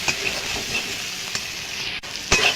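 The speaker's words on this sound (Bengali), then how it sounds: "এবার দিয়ে দেবো জিরে ধনে বাটা, আদা আর শুকনো লঙ্কা বাটা। দিয়ে এটা ভালো করে আর একটু কষিয়ে নেব।" A paste of cumin, coriander, ginger and dried red chili sizzles and is stirred in a pan while cooking country chicken, a steady frying hiss with occasional sharper spatters and stirring scrapes.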